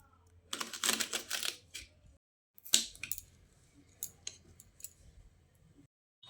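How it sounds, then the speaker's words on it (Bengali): A knife cuts spring onion stalks into medium pieces, producing bursts of crisp, rapid chopping clicks in two main runs, with a brief silent gap between them and a few scattered cuts afterward, close and fairly quiet. "ঠিক এরকম সাইজ করে পেঁয়াজের কলিগুলোকে কেটে নিতে হবে।"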